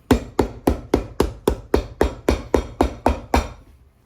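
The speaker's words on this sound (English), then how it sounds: "This is our pre-cut sheet of cork, which I seem to have glued backwards, but it'll work. I'm just gonna hammer this in." A hammer strikes a pre-cut cork sheet being fitted onto a boot sole during a resole of Tecovas boots, about a dozen evenly spaced sharp knocks, close and loud, with no voices.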